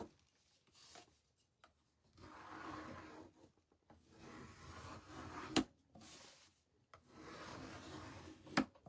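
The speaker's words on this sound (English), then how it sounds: "now I'm going to take my little scraper tool and I'm just going to scrape." A small scraper tool drags across a painted wooden gnome shelf sitter, taking paint off in repeated soft rasping strokes with short pauses between passes and a couple of sharper scrapes, close and fairly quiet.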